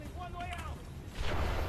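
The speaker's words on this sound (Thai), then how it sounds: "มีระเบิดด้วยใครทำอะไรไปวะ" Bomb blasts in the video game Deus Ex: Mankind Divided, a steady low rumbling roar with a heavier burst of booming near the end, loud and close, with a voice speaking over the start.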